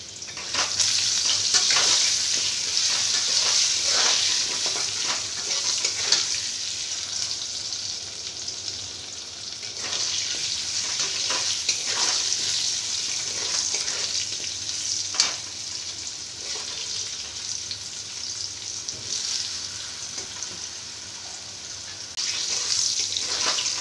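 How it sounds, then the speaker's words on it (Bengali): Potatoes seasoned with salt and turmeric fry in hot oil for chitol fish kalia, a steady close sizzle with frequent stirring and scraping and no talk. "দিয়ে ভেজে নেব আলুগুলোকে।"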